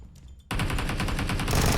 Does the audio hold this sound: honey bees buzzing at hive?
no